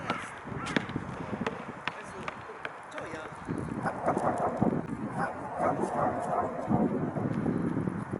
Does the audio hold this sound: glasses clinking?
no